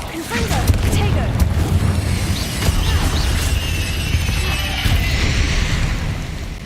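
Confringo and Bombarda spell blasts in a video game go off as repeated heavy booms and crashes, layered over a dense rumbling mix with voices shouting throughout.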